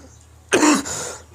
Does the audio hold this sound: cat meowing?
no